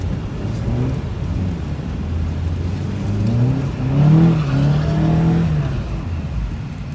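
A Nissan 240SX convertible drifts on a winter night, its engine droning and rising in pitch as it revs, swelling loudest midway before easing off, with no talk.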